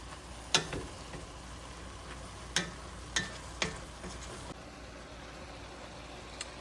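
Fried cabbage with bacon and smoked sausage being stirred in a pan: a faint steady sizzle broken by several sharp scraping clinks of the utensil, spaced irregularly.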